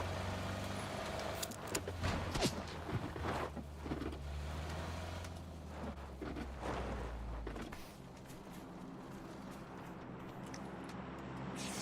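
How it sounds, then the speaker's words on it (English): A car engine in the PUBG video game drones at a steady mid pitch on Classic Erangel, loud and continuous, easing slightly toward the end with faint rattles over it. "Can I hear another car?"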